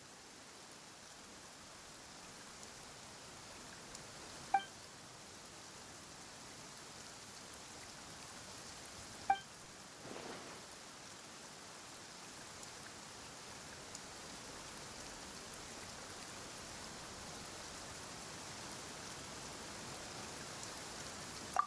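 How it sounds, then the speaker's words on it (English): Steady soft rain falls in the video game Genshin Impact as a quiet even hiss, broken by a few faint isolated clicks and taps. "Why is it raining all of a sudden?"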